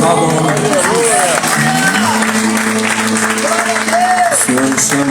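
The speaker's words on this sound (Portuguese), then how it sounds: "Aplaudam o nome de Jesus." A church congregation applauds under a loud voice that sings and speaks over it, a continuous clapping wash beneath the voice.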